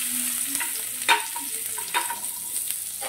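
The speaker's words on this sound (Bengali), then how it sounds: "এবার আমি দিয়ে দেবো রসুনগুলো।" Garlic sizzles in hot oil after black cumin over a medium gas flame, a soft steady crackle punctuated by a few louder scrapes of stirring.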